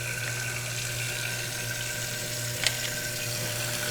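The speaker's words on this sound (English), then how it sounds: "turn on the disposal" Garbage disposal running with tap water flowing into a kitchen sink, a steady broadband rushing hiss with a low motor hum underneath and one brief clatter near the end, no talking.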